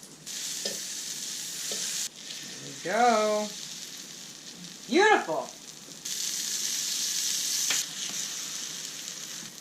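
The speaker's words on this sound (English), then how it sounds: "directly put the French toast on that pile of butter. There we go. Hear that sizzle?" Steady frying sizzle of French toast in hot butter in a pan, continuous hiss throughout, with a couple of short spoken remarks breaking in over it.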